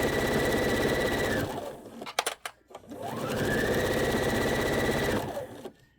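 Sewing machine stitching a key chain lanyard in two fast, steady bursts of rapid mechanical whirring, with a short pause of clicks and handling noises between them.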